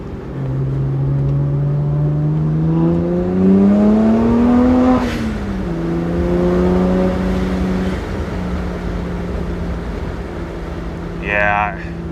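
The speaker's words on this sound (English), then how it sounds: "this car sounds good inside, but I think it's going to sound really good outside. We got some linearity to the exhaust note." A modified BMW 1M engine and exhaust heard from the cabin while driving, a steady drone rising in pitch through a gear, dropping, then holding at cruise, loud and close, with a faint beep near the end.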